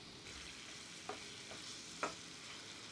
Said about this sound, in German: werde das jetzt hier nicht alles reinmachen, sondern portionsweise anbraten einmal